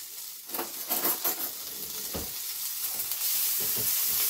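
Onions fry in a pan for stewed onion, a soft steady sizzle with several scraping stirs near the start, then a continuous hiss that grows a little louder.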